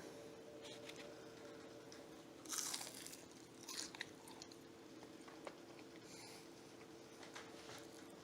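Someone biting into a crunchy homemade battered onion ring, a quiet room where a sharp crisp crunch is followed by a second softer crunch and faint chewing.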